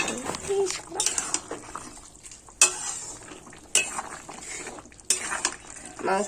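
Green chilli chicken kosha being stirred in a pan, with a few scraping spoon strokes and clatters against the metal over a low simmering sizzle, near and moderately loud; a voice talks throughout.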